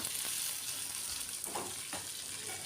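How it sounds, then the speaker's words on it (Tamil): Tomatoes sizzle and hiss in a hot pan while cooking down for a South Indian shallot kuzhambu, with a few soft stirring scrapes; no voices. "தக்காளி நமக்கு நல்லா கரைஞ்சி வதங்கட்டும்."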